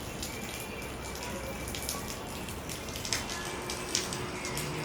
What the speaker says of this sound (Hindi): कहीं नामो निशान नहीं था और आधे घंटे में तो बारिश आ गई है।